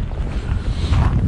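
Steady cold wind on the Angara River buffets the microphone with a low, rumbling roar, continuous throughout the short stretch, no voices.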